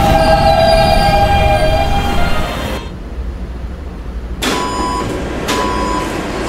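A Roblox PTA Subway D train on the 5th Avenue Lines rumbles steadily with a motor whine, drops briefly to a duller roar as if passing through a tunnel section, then brightens again.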